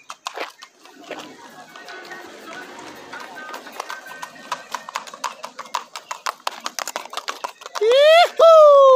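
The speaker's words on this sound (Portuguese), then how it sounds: "Ah, o Bielzinho no cavalinho dele." Hooves of a gaited horse clip-clopping in a quick, even trot on a farm, sharp close strikes growing denser, with a voice talking over them and a rising whistle-like call near the end.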